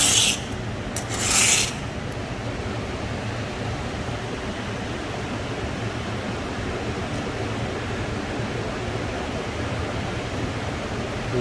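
A single-bevel steel blade scraped across a rough concrete slab to pull off a burr, giving a steady broad gritty rasping that runs continuously for the whole stretch after a couple of brief sharper scrapes at the start.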